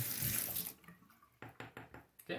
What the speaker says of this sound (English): Just gonna add a couple drops of water there.